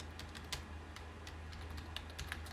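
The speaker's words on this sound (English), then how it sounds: "I'm gonna kind of add more room for me to type here" A computer keyboard being typed on, with quick, uneven bursts of soft key clicks, faint and close, over a low steady hum and no talking.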